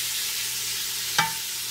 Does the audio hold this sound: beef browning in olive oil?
yes